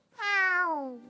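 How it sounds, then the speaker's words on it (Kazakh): A cartoon house cat in a children's story gives a single clear, drawn-out meow that rises, then slowly falls and fades, heard alone. "Бір күні Мараттың үйінде ерке ала мысық өмір сүріп жатты."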